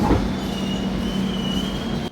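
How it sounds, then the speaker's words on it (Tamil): A train engine in Assam rumbles steadily nearby with a sustained high squeal and low mechanical drone as it pulls away from New Tinsukia. "இன்ஜின் பாருங்கள் நைஸாக கிளம்புது"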